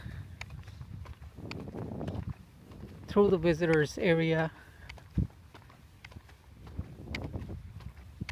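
Horses walking in a visitors area at Point Reyes, California, hooves clopping softly on the ground while someone talks over them nearby, with wind noise in the background.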